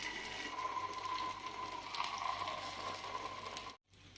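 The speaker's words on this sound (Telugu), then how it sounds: "నూనె హీట్ అయిన తర్వాత ఇలా మనం ముందుగా కలిపి పెట్టుకున్న బ్యాటర్ని కొద్దిగా ఈ గుంతలో వేసుకున్నాం" Paniyaram batter fries in hot oil in a paniyaram pan with a faint, even hiss and soft bubbling, cut by a brief silent gap near the end.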